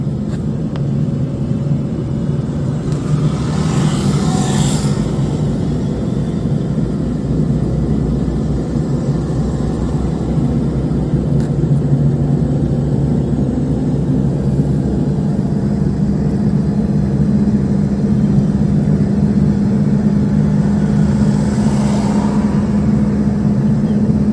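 A learner's car pulling away in second gear during a driving lesson, its engine a steady, close, low drone with constant road rumble that rises only slightly as it speeds up.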